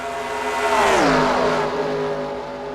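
Race cars in a NASCAR racing video game accelerate past, an engine note rising then sweeping downward as a car passes close, followed by a steady droning whine.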